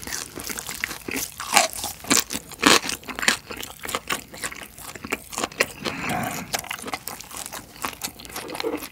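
Someone bites and chews super-crispy fried pork belly up close, producing loud, repeated crackling crunches in quick bursts with quieter chewing between them and no talking.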